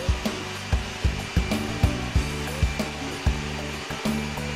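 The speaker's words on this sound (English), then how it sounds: "The Sprinter has 2 independent motors, one for the brush drive and one for the vacuum." A compact Sprinter floor scrubber runs with its brush drive and vacuum motors, a steady mechanical whir overlaid by regular rhythmic thumps or scrubbing strokes about every third of a second, close and fairly loud.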